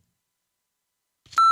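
A short, loud censor bleep, a single steady pure tone, cuts in abruptly at the very end after near silence.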